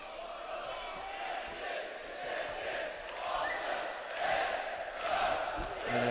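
Arena crowd at the Heydar Aliyev Complex during a 2011 AIBA World Championships boxing bout, roaring as a home boxer secures his Olympic place: a sustained crowd roar that swells in waves and grows louder toward the end.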